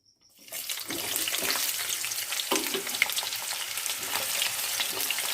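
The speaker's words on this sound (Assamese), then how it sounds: "লো টু হাই ফ্লেমত ভাজি কৰিব পিঁয়াজ।" Chopped onions dropped into hot oil in a kadai sizzle up suddenly after a brief silence, then keep up a loud, crackling fry with scattered stirring clatter.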